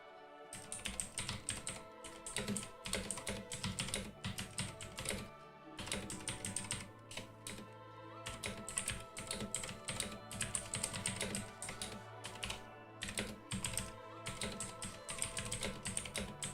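Someone types on a computer keyboard, a long fast run of close clicky keystrokes in quick bursts with brief pauses, with no talk during the typing.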